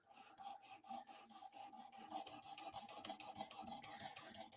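A Drop Bear knife is stroked again and again across a strop, making a close, steady run of dry rasping swipes, several each second, with no voices.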